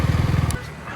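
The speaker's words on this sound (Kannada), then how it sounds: "KTM Duke 200. ಇವಾಗ ಇದರ ಸೌಂಡ್ ಕೇಳಿಸ್ಕೊಳ್ಳೋಣ ಬನ್ನಿ." A KTM Duke 200 motorcycle engine gives a loud, throbbing burst for about half a second, then drops away abruptly to a quieter background.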